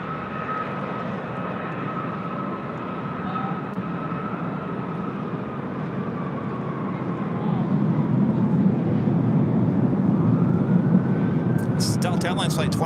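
A Delta Airbus A319 jet at LAX gives a steady, loud engine roar with a whining tone, growing a little louder toward the end.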